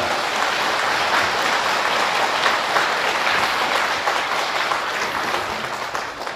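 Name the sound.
audience applause for monks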